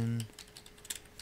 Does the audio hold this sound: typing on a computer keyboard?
yes